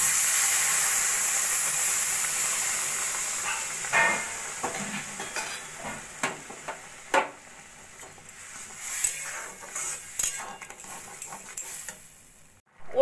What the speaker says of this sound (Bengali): এবার দিয়ে দেবো আমি পরিমাণ মতো গরম জল।